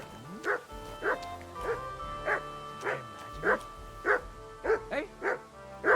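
Dog in Kingdom Come Deliverance 2 barking on command, a steady run of about nine sharp yipping barks roughly half a second apart, loud and close, with game background ambience underneath.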